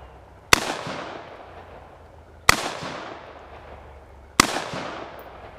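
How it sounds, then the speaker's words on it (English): Three sharp AR-15 rifle shots fired at a concrete block outdoors, loud cracks spaced about two seconds apart, each followed by a short fading echo. "the last shots I'm going to take at the very top block"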